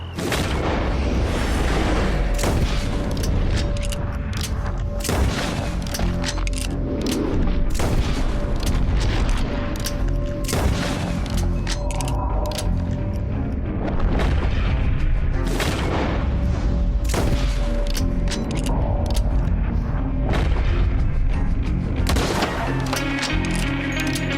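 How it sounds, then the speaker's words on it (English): Sniper rifle shots ring out in Red Dead Redemption 2, a series of loud booming cracks repeating irregularly over a dense layer of game music and ambience throughout. "with his sniper rifle in hand, fed up with the way things have turned out so far, he picked them off one by one"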